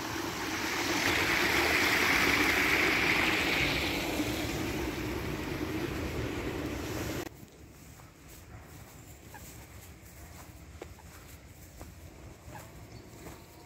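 Water from a pond's overflow outlet rushes steadily and loudly for several seconds, then abruptly drops to a softer, quieter flow.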